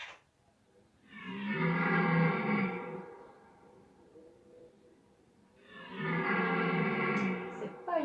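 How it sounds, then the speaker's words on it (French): Two long, deep, drawn-out roaring calls from a red deer stag in rut, each lasting about two seconds with a pause between them, heard clearly with no other sounds. "cerf qui brame."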